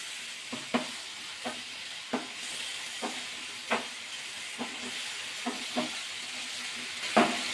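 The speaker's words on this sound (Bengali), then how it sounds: "আবার একটু নাড়াচাড়া করে দিলাম" Dates, dried mango and cashews being stirred in a pan for mixed fruit chutney: a continuous soft sizzle with about ten spaced scraping knocks of the spoon, close and moderately quiet.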